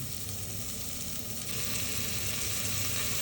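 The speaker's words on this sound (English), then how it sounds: "we're just gonna add in the onions. Toss them around a little bit, make sure nothing's burning" Onions tossed in a hot pan for bean soup, sizzling loudly and continuously, the frying growing slightly louder partway through, with no talking.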